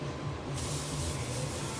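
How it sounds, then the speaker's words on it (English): Olive oil cooking spray hisses from a can onto a pan, a single sustained near spray starting about a third of the way in and continuing to the end. "So I'm going to be spraying this with some olive oil."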